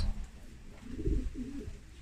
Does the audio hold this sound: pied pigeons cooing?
yes